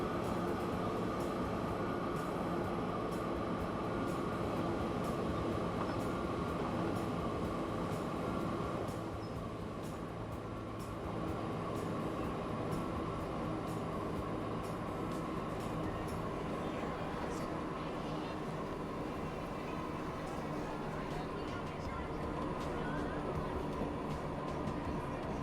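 A train runs steadily in Transport Fever 2, a continuous rumbling rail drone with a constant hum, dipping briefly midway before resuming at an even level throughout.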